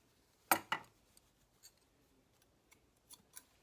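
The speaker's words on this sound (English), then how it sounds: "this is where I'm going to grab my scissors and just clip those few" Two quick, close scissor snips clipping fabric edges while making a hair scrunchie, followed by a few faint scattered clicks and ticks in an otherwise quiet space.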